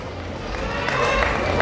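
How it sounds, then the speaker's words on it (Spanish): Audience applause at a queen coronation during the 2022 Taxadhó fair, a dense steady wash of many hands clapping with crowd noise that swells slightly toward the end, voices faintly mixed in. "Fuerte el aplauso para ella, por favor."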